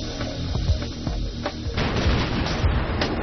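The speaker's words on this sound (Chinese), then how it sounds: "伴随着第十声枪响" Type 92 9mm pistol shots at target practice on eggs, a few sharp reports spaced apart with a booming, reverberant tail, loud and close, no talk.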